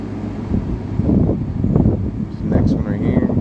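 Strong wind buffets the microphone in loud, gusty low rumbles throughout, high up outdoors, with some faint indistinct sounds in the background.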